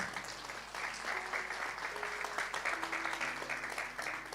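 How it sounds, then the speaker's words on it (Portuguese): Audience applause fills a church service, a steady broadband clatter of many hands that keeps going for several seconds, with faint tonal music underneath. "Pode aplaudir o Senhor."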